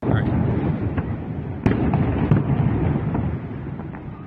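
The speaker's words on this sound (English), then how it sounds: "Fireworks." Fireworks bursting amid dense, continuous background noise, with several sharp cracks standing out and voices running underneath throughout.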